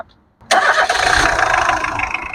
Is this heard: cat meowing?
no